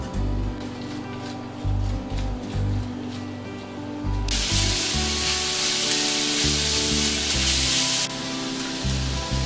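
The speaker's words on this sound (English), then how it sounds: "we're gonna saute our onions" Onions sautéing in olive oil in a pan give a steady loud sizzle, swelling to a harsher, brighter hiss midway before easing again, with low background tones and no talking.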